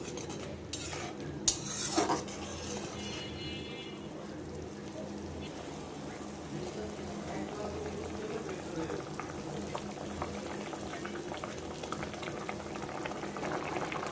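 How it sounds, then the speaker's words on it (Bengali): Curry gravy bubbles at a rolling boil in a pot as pointed gourd fritters go in, with a few sharp utensil clinks at the start before the simmering burble settles into a steady, close background. "ঝোলটা ফুটে গিয়েছে এখন আমি পটলের বড়াগুলো দিয়ে দিব"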